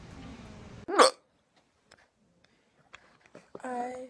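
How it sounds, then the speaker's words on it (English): A single sharp, loud hiccup bursts out after some background noise, followed by near silence with faint clicks and then a voice speaking. "I had hiccups."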